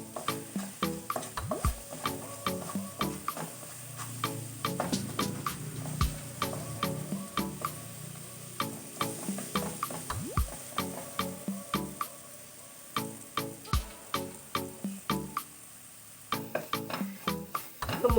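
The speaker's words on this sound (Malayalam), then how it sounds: "മുളക് പൊടി നല്ല മൂത്തിട്ടുണ്ട്." Chili powder roasting in a pan on the stove, with steady scraping and stirring strokes and soft sizzling, close and fairly quiet, no talking.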